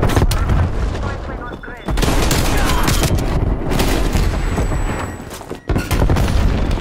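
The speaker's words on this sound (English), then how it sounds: "Semtex out. Throwing grenade." Grenade blasts and gunfire ring out during a Hardpoint match on the Nuketown map in Call of Duty: Black Ops Cold War. Loud booms and rapid shots come in dense bursts, with a short lull about two seconds in.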